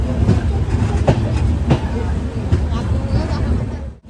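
Aboard the Kolkata–Agra Cantt Express as it runs, a loud steady rumble carries sharp rhythmic clacks of the wheels, with people talking over it before a brief dip at the end.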